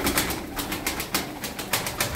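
Tumbler pigeon wings flapping in flight, a run of rhythmic broadband flutters that pulse roughly every quarter to half second, fairly close and loud, with no talking over it.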